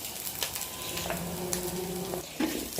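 Mustard seeds, chillies, curry leaves and ground paste fry in hot oil in a pan for a beef and tapioca dish, giving a steady close sizzle with a few soft stirring scrapes and no talking.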